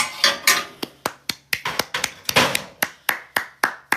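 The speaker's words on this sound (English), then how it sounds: "That's me clapping for Morton." A single person claps hands in a fast, uneven series of about fifteen sharp, close claps, each ringing briefly, with no speech.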